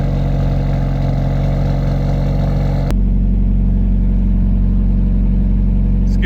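A Chevy Cruze engine idles after a coil upgrade, giving a loud, close, steady low hum with an even rhythm and a brief click partway through.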